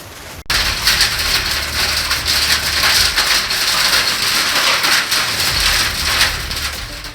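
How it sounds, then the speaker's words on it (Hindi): Hail pelts down during a storm in Morena, Madhya Pradesh, a loud dense continuous clatter that starts abruptly and runs unbroken. "मध्य प्रदेश के मुरैना में तो पूरे 5 मिनट तक आसमान से ओले बरसते रहे।"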